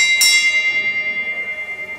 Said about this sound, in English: The toll of the ship's bell